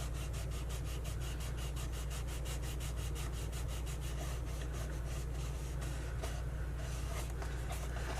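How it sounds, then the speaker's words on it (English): Paper tabs of a 3D pumpkin craft being lightly rubbed, a quiet rapid scratchy brushing repeated in even strokes over a low steady hum, with no talk. "And you want to just lightly rub the tabs."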